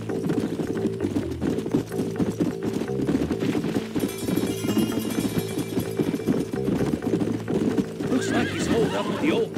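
Horses in the Red Dead Redemption video game neigh and whinny over a steady, continuous clatter of hooves, loud and close, with faint game sounds layered beneath.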